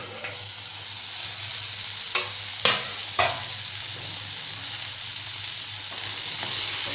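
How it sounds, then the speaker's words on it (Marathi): Drumstick and potato bhaji being sautéed in a pan after the lid comes off, a steady quiet sizzle broken by a few sharp scraping clatters of the spatula, no talking. "परतून घेऊया।"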